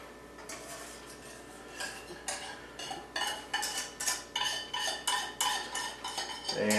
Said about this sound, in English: And then I'm going to add the cheese sauce.